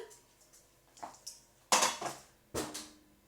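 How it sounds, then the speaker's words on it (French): Metal kitchen pans clank and rattle as a frying pan is pulled out from among them, a few soft knocks building to two sharp, close clatters with ringing tails. "je vais prendre une poêle."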